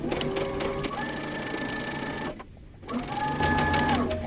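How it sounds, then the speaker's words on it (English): A sewing machine stitches waist darts on a top's back pieces: close, loud, rapid whirring and needle chatter that runs steadily, stops briefly for about half a second, then resumes. "we're going to sew all of our darts"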